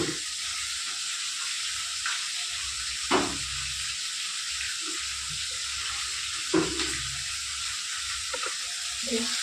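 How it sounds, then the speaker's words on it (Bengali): Bhola fish frying in oil: a continuous close hiss and sizzle, with occasional soft knocks and spatters rising out of the steady frying noise. "মাছ ভাজা চলছে"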